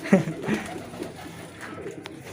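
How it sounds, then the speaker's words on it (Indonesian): A merpati kolong pigeon coos close by, with a few low soft calls near the start over faint background noise. "Ini merpati kolong ya?"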